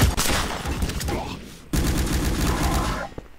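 Video game gunfire erupts in dense, loud bursts of rapid shots, breaking off briefly and then resuming in a second sustained volley before cutting out.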